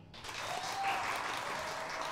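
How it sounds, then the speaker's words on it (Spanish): A studio audience claps in broad, steady applause for a contestant on a comedy show, starting abruptly and staying loud and even throughout without any talk over it. "Aplaudan por Willy."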